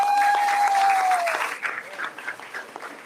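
Audience applause welcoming a cheer coach at a press conference, steady clapping from a crowd that fades out after a couple of seconds, with a high whistle-like tone early on.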